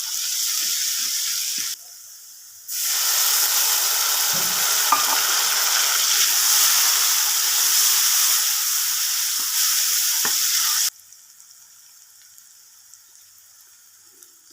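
Finely chopped onion and garlic sizzle loudly in hot oil, a dense hiss that briefly drops away, returns strong with a few stirring knocks, then cuts off to near quiet.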